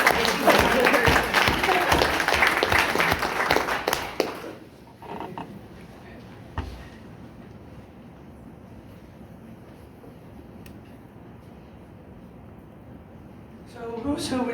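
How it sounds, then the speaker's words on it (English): A crowd bursts into loud, dense applause for about four seconds, then it dies away into a quiet room with faint murmurs before clapping briefly returns. "round of applause for Heidi"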